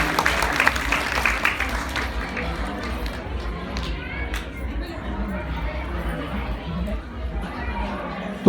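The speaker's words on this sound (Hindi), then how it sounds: "एक बार जोरदार ताली बजा करके" An audience at a religious discourse gathering claps, a loud burst of applause at first that quickly fades into murmuring crowd chatter and background noise.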